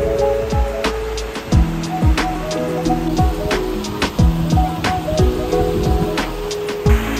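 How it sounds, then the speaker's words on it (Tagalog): A waterfall at the first stage of the falls on a day trip near Perth gives a steady, close broadband rush of falling water, with layered tonal sounds and occasional sliding tones running over it throughout. "And here we are in the first stage of the falls."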